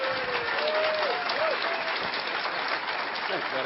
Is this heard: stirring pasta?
no